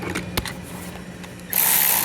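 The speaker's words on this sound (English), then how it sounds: "12-volt ratchet." A Milwaukee M12 12-volt non-fuel cordless electric ratchet whirs on briefly near the end, a loud steady mechanical buzz starting abruptly after a stretch of quieter clicks and handling noise.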